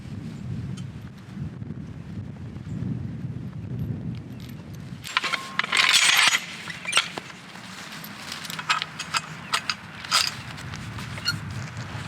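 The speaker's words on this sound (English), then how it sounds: "then just ratchet it up out of the ground slowly" A farm jack ratchets a chained field gate post slowly up out of the ground outdoors, producing a burst of clicking and rattling metal followed by scattered clicks.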